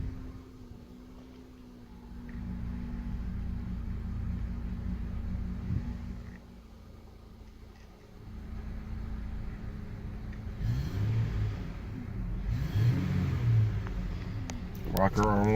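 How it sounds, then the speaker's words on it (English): A 2005 Honda Odyssey with multiple check-engine codes runs with a low engine rumble that idles, then rises in a couple of revs toward the end, with people talking over it. "It's just revving it."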